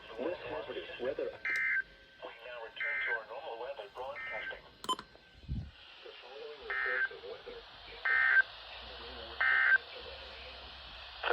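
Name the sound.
Emergency Alert System weekly test tones on weather radio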